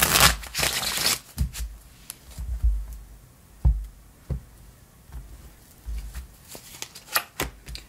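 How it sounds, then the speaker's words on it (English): Tarot cards shuffled by hand in a series of short riffling and tapping bursts, fairly close and moderately loud, with brief pauses between them and no talking. "I promise I shuffle these multiple times in between readings."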